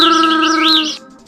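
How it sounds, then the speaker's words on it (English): A small bird gives a quick run of bright, rising-and-falling chirps, close and clear, which break off abruptly near the end and leave only a faint tail of sound. "A bird came, picked up a grain and flew away."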